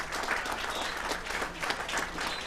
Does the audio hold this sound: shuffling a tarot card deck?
no